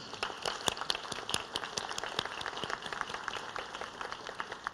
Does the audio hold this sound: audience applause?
yes